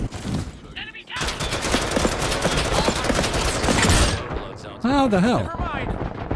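Gunfire from the shooter video game Off the Grid rattles in dense, rapid bursts for several seconds, loud and close, with a short quiet gap before a voice speaks briefly over the tail end.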